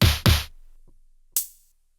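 Two sharp snare hits from an IK UNO Drum machine land in quick succession with a short decaying tail, followed after a pause by a third, brighter and noisier snare strike.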